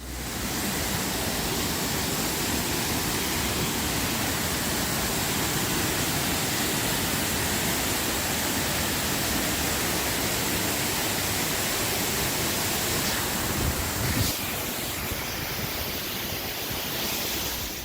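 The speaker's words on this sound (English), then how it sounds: "Now we get a chance to go behind the waterfall" Kurşunlu Waterfall in Antalya, Turkey, roars as a loud, steady, broadband rush of falling water heard up close, unbroken for the whole stretch with no voices.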